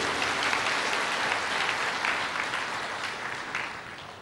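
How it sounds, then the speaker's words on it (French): Sustained, dense applause from a large audience at the opening of a farmers' day event in Kaya, Burkina Faso, honouring the government and the president, steady and loud throughout before tapering slightly at the end. "applaudissements bien nourris"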